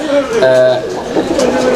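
Fancy pigeons coo in low, throaty calls close by while someone talks over them.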